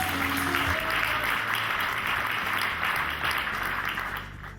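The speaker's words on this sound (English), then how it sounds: "Please give a big round of applause for Henrik Engdahl." Steady audience applause fills the whole clip, a dense wash of clapping that tapers slightly at the end.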